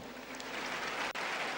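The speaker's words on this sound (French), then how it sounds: "applaudissez très fort pour vous" A crowd at a comedy show applauds loudly in a continuous dense wash of clapping with one brief dip, no voices on top.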